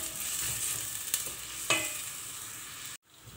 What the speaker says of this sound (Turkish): Şimdi bunları bir güzel kavurayım.